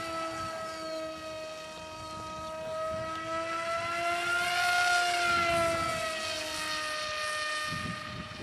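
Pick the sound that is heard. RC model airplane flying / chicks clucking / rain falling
RC model airplane flying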